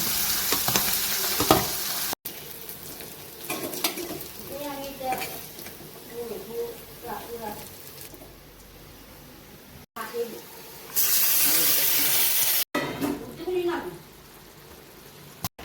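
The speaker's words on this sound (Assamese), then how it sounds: "গোটেইখিনি তেলত ভাজি নকৰি ডাইৰেক্ট তেলত দি দিম" Small fish cooked with spices straight in hot oil without pre-frying, stirred in a pan: steady sizzling hiss with scraping stirs, a louder burst of frying near the end, and a faint voice in the background.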